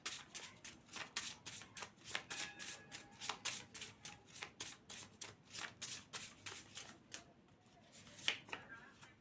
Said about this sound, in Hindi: एक कार्ड और लूँगी मैं यहाँ से